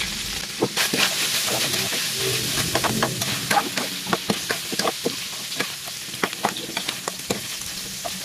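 Bird meat sizzles as it fries in its own rendered fat for a Filipino hamonado, a steady close hiss peppered with sharp, irregular crackles and pops throughout.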